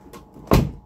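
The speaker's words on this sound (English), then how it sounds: "let me just close this door" A door pushed shut in a room, one short soft thud with a brief rustle before it, close and alone.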